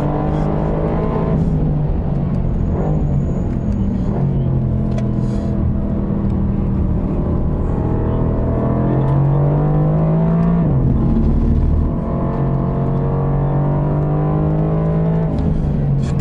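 A loud 2019 Mercedes-AMG GT R Pro engine drones steadily, its pitch rising and dipping as it drives over track curbs, with a brief rough shift near the middle; no talking.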